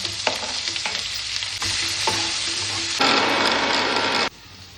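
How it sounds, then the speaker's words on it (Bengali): Onion and capsicum frying in oil with butter in a pan, a steady sizzle with scraping stir strokes, growing louder and denser midway before dropping off near the end. "এখানে পেঁয়াজ আর ক্যাপসিকাম দিয়ে দেবো তেলের মধ্যে, এটাকে ভালো করে ফ্রাই করে নেবো"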